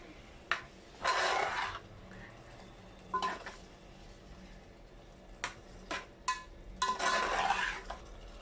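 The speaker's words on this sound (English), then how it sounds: "I'm just going to give this a quick mix" Ginger, garlic and salt stirred in a curry pot for sausage and potato curry, a few clanking scrapes of a spoon against metal separated by quieter pauses, close and fairly soft.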